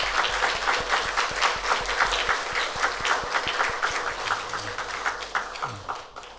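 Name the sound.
audience applause for choir at chapel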